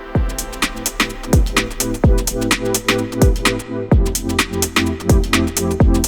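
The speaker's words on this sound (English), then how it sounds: "All the synth sounds you can hear in this track were made as a prep for this video." An electronic track of layered synthesizer tones over punchy kick drums and crisp hi-hats, driving and loud with a short break midway.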